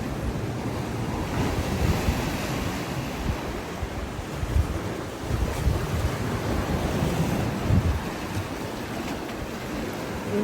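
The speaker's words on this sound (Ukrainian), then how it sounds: "і вийшли до моря" Sea waves roll and wash onto a rocky shore in Paphos, Cyprus, in repeated surges, with gusty wind buffeting the microphone throughout.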